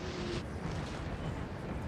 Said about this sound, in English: these guys can be shot at by the main cannon.